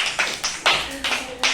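Schoolchildren in an English class clap for a classmate: a loose series of about five sharp, close hand claps in a fairly even rhythm.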